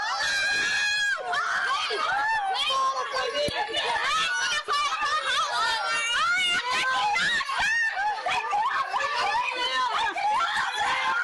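Women residents scream and shout in panic after gunshots near a bar, high voices overlapping continuously amid chaotic chatter, loud and close throughout.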